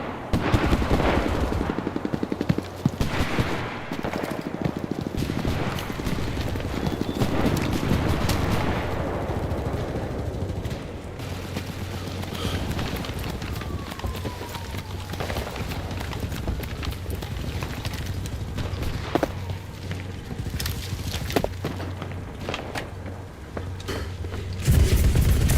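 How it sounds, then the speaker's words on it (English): Gunfire in an online army-themed video game, dense bursts of shots and booms crackling continuously at mid distance with some hoofbeat-like clatter mixed in, no voices. "Somebody's shooting at me with a machine gun."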